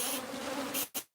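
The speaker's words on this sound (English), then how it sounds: "he's raining bees" Dense buzzing of bees from a large, long-established hive inside a horse stall, a loud continuous drone that swells and then cuts off abruptly near the end.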